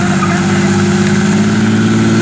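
A car engine hums steadily and loudly at a sustained mid pitch, holding a constant revving drone with a faint gearshift-like pulse and no voices over it.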